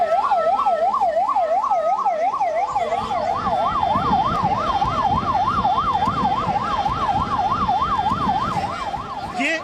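Ambulance siren wailing at a temple accident scene in Indore, a loud rising-and-falling warble cycling steadily, with traffic rumble and crowd noise underneath.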